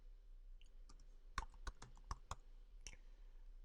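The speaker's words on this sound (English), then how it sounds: "let's just finish typing this." Typing on a computer keyboard while coding a Next.js web app, an uneven run of sharp, close keystrokes with small gaps between them over a quiet room hum.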